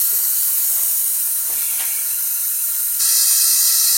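A steady high hiss of air escaping from an engine cylinder during a leak-down test, constant throughout and close, with a brief bump in intensity toward the end.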